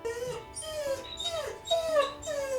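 A greyhound whines at feeding time, a close series of high, drawn-out whimpers that slide downward in pitch, repeated four or five times in quick succession.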